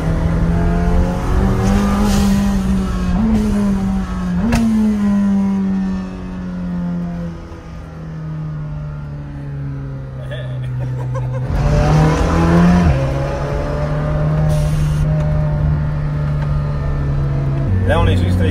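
A hypercar's engine drones loud and near, its pitch climbing in steps with gear changes, dipping briefly, then building again as it accelerates hard to overtake.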